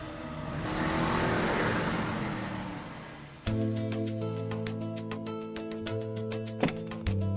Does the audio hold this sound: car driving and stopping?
yes